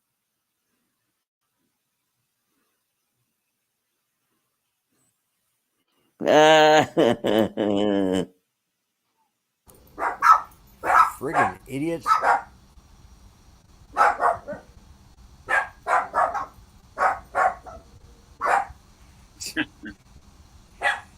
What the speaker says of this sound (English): Go outside and bark. Now they're all barking.